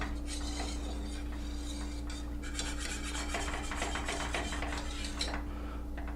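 A whisk works grated Parmesan into cream sauce in a pan for chicken Alfredo, making a steady, close metallic rasping and scraping that runs continuously with no talking.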